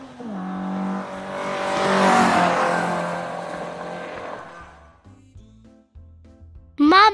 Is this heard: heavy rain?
no